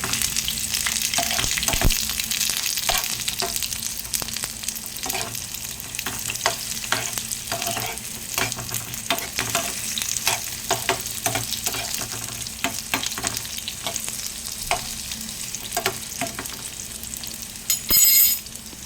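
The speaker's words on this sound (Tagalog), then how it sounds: "lalagyan ko na lang ng dalawang itlog." Two eggs frying in a pan for a home-cooked lunch, crackling with a steady, close sizzle punctuated by sharper pops and spatters throughout, with no voices.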